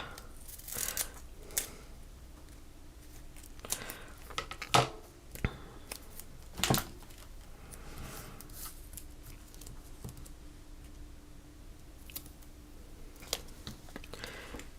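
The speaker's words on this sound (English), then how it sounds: "So I'm just going to cut this one more strip." Scissors snip through a craft paper strip in a few quick, close cuts, with brief rustling of the strip between snips and otherwise quiet handling.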